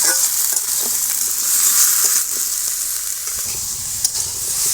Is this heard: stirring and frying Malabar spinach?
yes